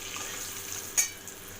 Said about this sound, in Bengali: ভাজা আলুগুলো ভালো করে কষবো